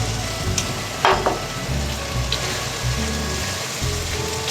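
Tomatoes frying with garlic-ginger paste in a pan for egg pulao, a close, steady sizzle with occasional stirring scrapes and pops, no voices.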